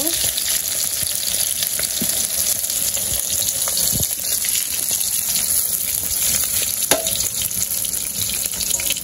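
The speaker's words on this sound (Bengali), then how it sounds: "আমার মাছ ভাজা হয়ে গেছে নামিয়ে নিব" Fish frying in hot oil in a village kitchen, a continuous close, loud sizzle and crackle with occasional sharper pops and spatters.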